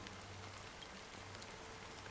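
Fine drizzle of black rain falling over the sea in the Penacony area of a video game, a soft, steady hiss of faint patter without a break.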